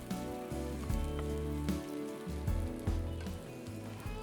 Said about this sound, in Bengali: সমস্ত মশলাটাকে আমি ভালো করে কষিয়ে নেব একদমই অল্প পরিমাণে তেলে আমি করছি চিকেন কারিটা